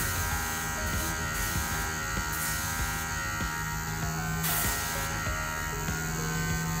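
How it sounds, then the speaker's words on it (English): A small indoor airbrush sprays thinned acrylic paint with a steady, constant hiss and faint electric buzz of its compressor, running alone with no talking, with brief changes in tone as the trigger is worked. "Sorry about the constant airbrush noise,"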